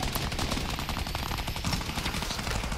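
Rapid, loud gunfire in a 50 v 50 video game match, with dense overlapping bursts of shots and automatic fire that keep going without a break.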